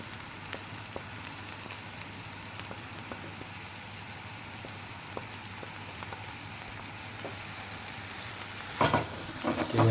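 Plain flour being stirred into onions frying in a pan, a soft continuous sizzle with light regular taps and scrapes, then a louder clatter of the spoon at the end, no speech.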